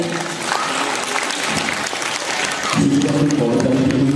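A dance recital audience breaks into loud, sustained applause, a dense wash of many clapping hands filling the room, with a murmur of voices rising toward the end.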